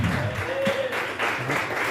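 A church congregation applauds during a service, a steady wash of clapping with a few voices mixed in.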